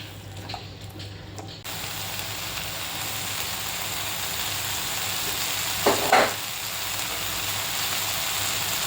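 Okra masala is stir-fried in a pan, giving a steady, close sizzle throughout with a couple of louder scraping stir strokes partway through, and no one speaking.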